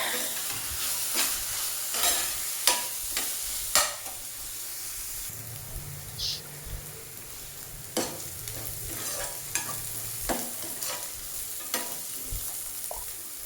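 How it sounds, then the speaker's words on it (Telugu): Ginger garlic paste and onions stir-fried in a pan, a continuous sizzle broken by frequent sharp spatula scrapes and knocks against the pan, close and without talk. "బాగా ఫ్రై చేసుకోవాలి అల్లం వెల్లుల్లి పేస్ట్ ఆనియన్ కూడా."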